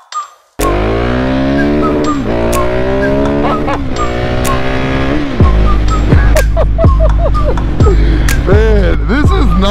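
A Husqvarna 701 Supermoto single-cylinder motorcycle starts off and accelerates hard through several gears, its loud, close engine note climbing and dropping with each shift and ending in rapid revving blips.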